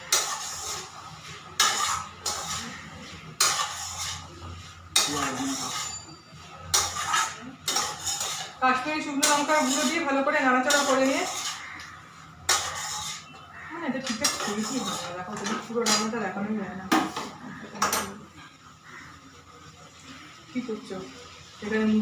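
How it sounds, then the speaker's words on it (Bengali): Food with chili powder stirred in a pan, with bursts of metal utensil scraping and clanking against the cookware, alternating with someone speaking between and over the strokes. "লঙ্কার গুঁড়ো দিয়ে ভালো করে নাড়াচাড়া করে নেবো এটাকে"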